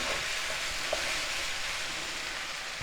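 Chicken and vegetable noodles hiss in a steady stir-fry sizzle in a hot pan, with a few faint clinks and shuffles of tossing over the continuous broadband frying.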